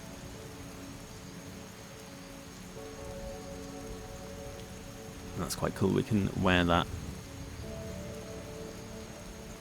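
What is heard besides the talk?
rain in Skyrim (video game)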